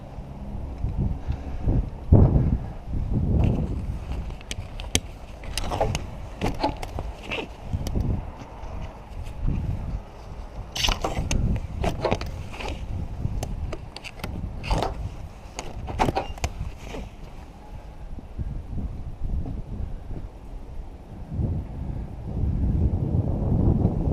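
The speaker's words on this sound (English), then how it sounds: "I hope that's the wind that's doing that" Gusting wind buffets the microphone in an outdoor spot, with low rumbling roar rising and falling alongside scattered knocks and clatter, steady for over twenty seconds with no voices.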